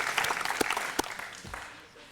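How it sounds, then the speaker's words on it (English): Audience applause at a United Stationers gathering in Sacramento, loud scattered claps and a few sharp close hand slaps that thin out and fade toward the end, with some voice mixed in. "so a round of applause for Bob Irwin"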